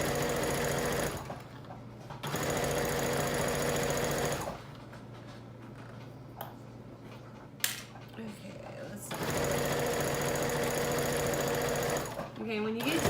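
A sewing machine stitching a DIY couch cover on a table that shakes and rattles, loud bursts of rapid stitching broken by quieter pauses with clicks and handling, and speech heard at times.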